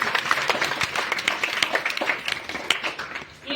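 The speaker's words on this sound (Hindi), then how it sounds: "जोरदार तालियां बजाएं" An audience at a devotional story session for Navratri breaks into applause, a dense, fairly close patter of many hands clapping that ebbs slightly toward the end.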